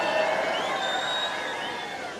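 A British crowd at a canoe freestyle world championship in Nottingham lets out a sustained mass shout and cheer, loud and steady, fading slightly toward the end.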